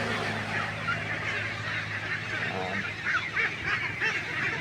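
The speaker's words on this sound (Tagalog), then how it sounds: "Daming itik." A large flock of ducks at a duck farm in Jaen, Nueva Ecija, honking and quacking in a dense, continuous clamor, loud and close throughout without pause.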